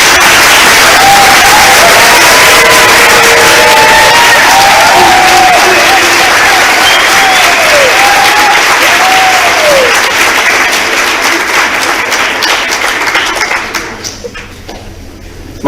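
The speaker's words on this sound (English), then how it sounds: "Let's give these newly pinned future nurses a round of applause" A large audience claps loudly at a nursing pinning ceremony, sustained dense applause with scattered cheers and whoops over it, fading away toward the end.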